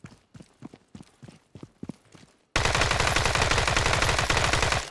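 Gunfire in the survival shooter Deadside: a run of separate sharp shots in uneven rhythm, then dense continuous loud fire filling the second half, close and with no talking.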